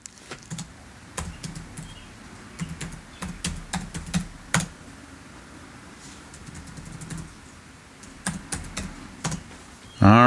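Keys clatter on a computer keyboard as data is entered during a tabletop baseball game, coming in irregular bursts of quick clicks with short pauses between them, close by, and a brief louder sound cuts in at the very end.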